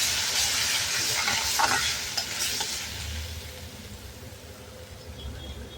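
Yogurt sautéing in a pan for corn kheema over low heat, giving a steady close sizzle with stirring scrapes that gradually softens toward the end; no talking.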